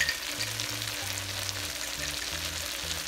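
A pan of spices fries for a hilsa fish korma, giving off a continuous crackling sizzle at close range, steady and moderately loud, with occasional stirring scrapes.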